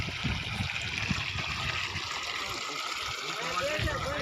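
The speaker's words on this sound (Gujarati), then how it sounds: "પાણી આવે છે હો તારું ધ્યાન રાખજે મોટર ચાલુ છે" Water gushing steadily from a running electric water pump motor outdoors during stormy weather, a continuous close splashing flow with brief voices breaking in now and then.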